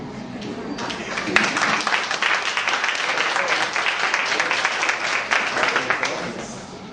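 A crowd applauds at a ceremony marking a computer donation to an NGO, dense continuous clapping at moderate distance that swells and holds steady before tapering near the end.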